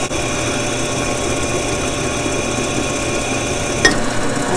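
A RYOBI drill press bores through glass with water, giving a steady high grinding whine that runs throughout, with a brief sharp click near the end as the bit punches through.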